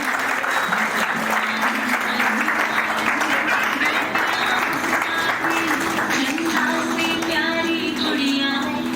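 Children clap steadily through a birthday party celebration for Spruha, a dense, continuous patter of many small hands with voices mixed in underneath.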